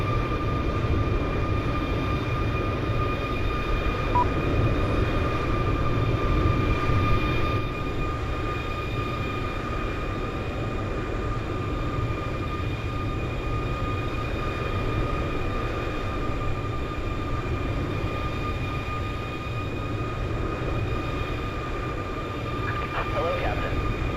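Air Force One sits at the gate during pushback in Microsoft Flight Simulator 2020. Its engines hum with a steady low drone and faint tonal whines for the whole stretch, and a voice speaks briefly over it.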